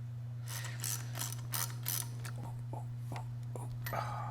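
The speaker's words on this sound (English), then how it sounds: "Ran our tap a little deeper, cleaned some things up, and voila." A thread tap cleans out bolt threads in a crusty Ford V-8 engine block from a Pantera, producing quiet uneven ratcheting and scraping clicks in short bursts over a low steady hum.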